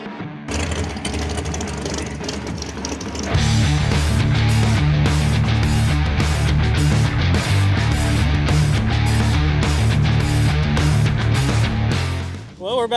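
An NHRA drag race car's engine warms up in the staging lanes in Orlando after a carburetor change, a loud steady rumble with rapid pulsing revs that holds strong for about ten seconds before briefly dipping.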